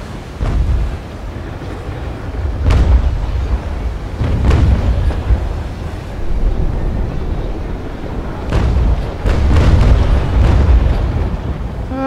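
Ship cannons fire in the naval combat game Naval Action on high seas, several heavy booms spaced across the span over a steady rumble of wind and waves.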